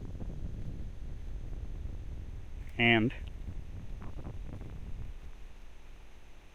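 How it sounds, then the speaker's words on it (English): Outdoor wind rumbles and buffets the microphone in low, uneven gusts that continue throughout, with someone briefly speaking partway through. "It's really windy today"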